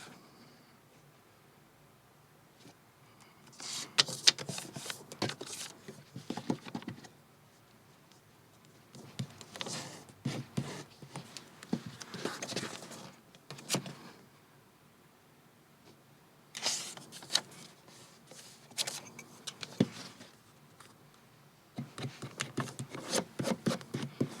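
Paper book pages folded one after another for folded-book art, with bursts of crisp rustling, rubbing and creasing close by, separated by quiet pauses.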